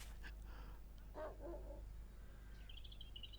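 A dog barks a few times in the 7 Days to Die video game, short sharp yelps over a steady low background hum, followed by a thin high whine.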